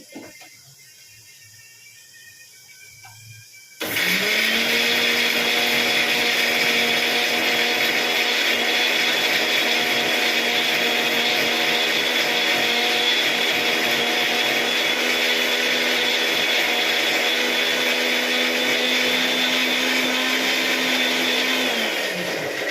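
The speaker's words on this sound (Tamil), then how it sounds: "இப்போ இந்த ஜாரில் மாங்காய், வெங்காயம், சீரகம் போட்டிருக்கேன் இல்லையா, இதை மிக்சியில் கொஞ்சம் அரைச்சிட்டு வரேன்" A mixer grinder jar grinds mango, onion and cumin together, kicking in abruptly after a quiet start and holding a loud, steady high-pitched motor whine with a constant hum until the end.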